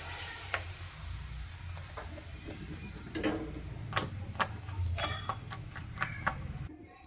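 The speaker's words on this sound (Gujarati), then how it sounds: "હવે આપણે આને તળીશું. તળવા માટે મેં તેલ ગરમ મૂકી દીધું છે." Tomato and sago papad frying in hot oil, a faint, continuous sizzle with scattered soft crackles and light pops, quiet and close, with a few louder ticks toward the end.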